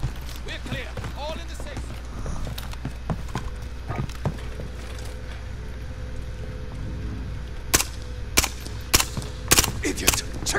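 Gunfire in Call of Duty: Modern Warfare, sharp shots cracking out irregularly over a low rumbling battlefield backdrop, growing louder and denser toward the end, with voices heard at times.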